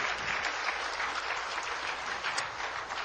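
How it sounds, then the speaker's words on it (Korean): A church congregation claps steadily in dense, sustained applause during a sermon, filling the room without a break. "박수로 하나님께 영광이요"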